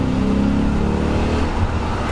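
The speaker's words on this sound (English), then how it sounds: "Just a smooth kind of German refined V8 kind of sound to it." A 2002 BMW E39 M5 with its V8 accelerates, a loud smooth engine drone that rises steadily in pitch close up, echoing off nearby walls.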